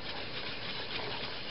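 Milk heating in a pot on the stove for cocoa as it starts to boil, a steady broadband hiss and soft bubbling that stays even and close throughout, with no voices.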